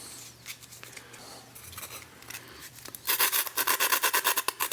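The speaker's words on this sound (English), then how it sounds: "so I got a block of wood, and I got my sandpaper." Sandpaper rubbing a block of wood, faint scraping at first, then a loud, rhythmic back-and-forth rasp of quick close strokes.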